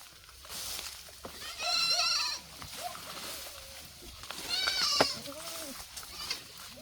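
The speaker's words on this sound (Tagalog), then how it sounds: "Matigas po ang ulo mga kapobs ng kambing nila kaya sundan po natin." Goats being herded in Mindoro, Philippines, give two clear, wavering bleats, one near the start and one later, close by amid people talking and outdoor background sounds.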